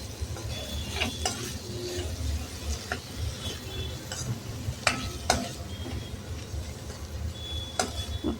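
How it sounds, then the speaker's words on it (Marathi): Moong dal being stir-fried with a pinch of garam masala and fresh coriander crackles with a constant close sizzle, broken by sharp spatula scrapes and clinks against the pan at irregular moments. "कोथिंबीर घालायची आणि परत ते छान परतून घ्यायचं"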